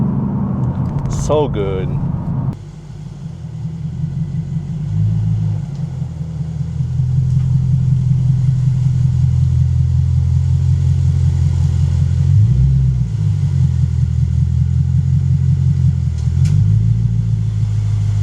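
A Lexus RC F V8 fitted with an Apexi axleback exhaust accelerates mildly in sport mode, a deep, loud, steady rumble that rises and dips in pitch across several gear changes, with a brief spoken remark at the start.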